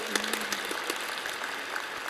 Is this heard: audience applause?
yes